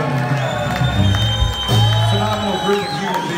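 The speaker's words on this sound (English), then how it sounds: "give everyone here a big round of applause one more time" Concert audience at Irving Plaza cheering and whooping after a cover, loud crowd noise mixed with lingering voices and tones.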